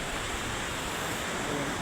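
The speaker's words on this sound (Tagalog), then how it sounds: "Kaya punood ko yung lakas ng alon." Strong ocean waves break on a rocky shore in a continuous, rushing roar, fairly faint and unbroken, with no voices over it.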